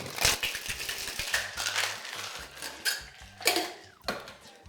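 Rapid rattling bursts of a cocktail shaker being shaken, several rhythmic shakes with short pauses, close and fairly loud.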